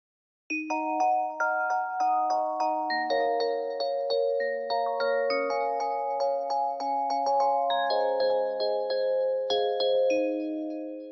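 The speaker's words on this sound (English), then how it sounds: "to spice up the bells, I added a bell top pattern to the current bells we have" Bright synthesized bell tones play a steady repeating pattern layered over other bell lines in a soca production, sustained and clear with no voices throughout.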